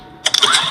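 A generator engine starts in the Granny horror video game, a short burst of cranking that quickly catches into a steady mid-pitched running hum, close and fairly loud, with no talk.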